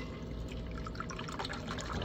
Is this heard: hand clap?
no